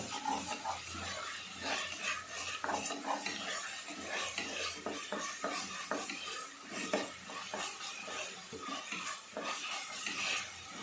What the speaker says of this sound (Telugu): చక్కగా మంచి కలర్ వచ్చే వరకు వేగనిద్దాం